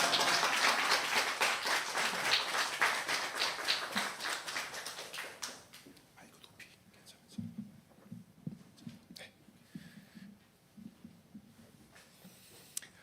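A church congregation at a Sunday worship service claps together, a dense, loud burst of applause that thins out to scattered claps, followed by quieter taps and a voice over faint background.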